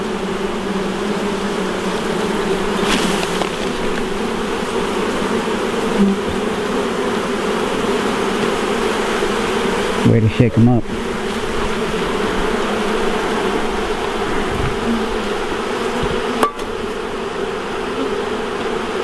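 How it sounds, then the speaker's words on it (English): A dense, steady drone of many honey bees buzzing close around an open hive during inspection, continuous and fairly loud, with brief rustling bumps and a short spoken remark. "they sound a little angry, they're buzzing around"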